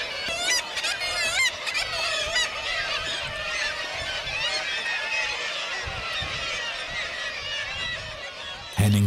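Gulls call loudly and continuously from the air above the roofs of an old fishing village, a dense overlapping chorus of harsh squealing cries that stops abruptly at the end.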